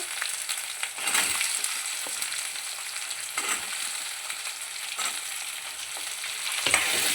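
Potato pieces sizzle and hiss in a pan of fried ginger and onion paste for a Muslim-style aloo kurma, with a steady frying crackle broken by a few scraping stirs of a spoon.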